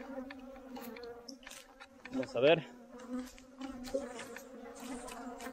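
A large swarm of attacking bees buzzes in a persistent drone, with louder passes of bees flying close by. A person speaks briefly partway through.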